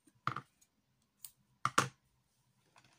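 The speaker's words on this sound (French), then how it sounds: "Donc je vais couper 2 bouts de scotch transparent." Clear adhesive tape being snipped into pieces, a few short crisp clicks and snaps close by in a quiet room, spaced apart.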